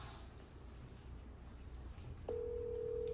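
A telephone is dialed on a quiet line, with faint soft taps followed by a steady ringback or dial tone that starts abruptly and holds to the end.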